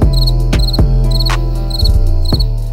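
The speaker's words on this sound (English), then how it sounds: "Crickets produce their chirps by rubbing their wings together." Crickets chirp in a loud, close, steady rhythmic pulse over a low constant hum, with several sharp clicks breaking in.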